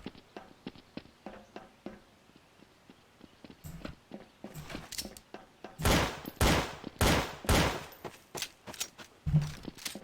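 Counter-Strike gunfire: scattered distant shots and footsteps give way to a loud, rapid burst of close automatic fire with sharp repeated cracks.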